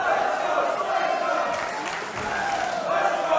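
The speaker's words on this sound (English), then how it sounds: "Crowd here firmly behind Slater" The crowd at an indoor tag team wrestling match cheers and chants, a continuous roar with a brief dip partway through, heard beneath a commentator talking.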